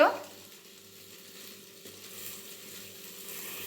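A soybean omelette mixture sizzles steadily in a hot frying pan after an opening splash as it lands, then settles into a gentle, even hiss with no talking.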